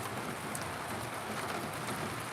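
Steady rain falls outdoors on Crown Land among trees and mountains, a dense, even patter close by with no voices.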